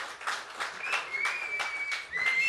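An audience applauds a Marathi sawaal-jawaab group stage performance with dense, steady clapping throughout, while a thin whistle rises and holds above the crowd.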